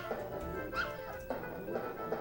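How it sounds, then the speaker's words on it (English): Cartoonish puppies yip and whimper in the Earthworm Jim 2 video game, with several short, bright barks in quick succession under a faint game soundtrack. "Now the number of puppies that he throws and the pattern that they come in does get harder."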